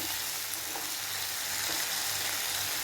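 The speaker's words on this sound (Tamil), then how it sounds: "இப்போ தக்காளி நல்லா வதங்கி வரட்டும்." Chopped tomatoes sauté in a hot pan as a cooking base for brinjal gravy served with biryani, giving a steady close sizzle and frying hiss throughout with no talk.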